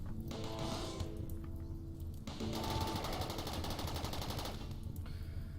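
RimWorld colonists fire guns at attacking natives in rapid, rattling bursts, two long strings of shots over a steady low game hum, with a short gap between them.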